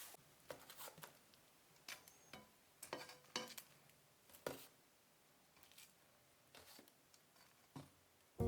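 Pine nuts stirred into basil and garlic crispy wings in a pan, a series of quiet close scrapes and clinks from stirring, spaced irregularly, with soft sizzling in a quiet room.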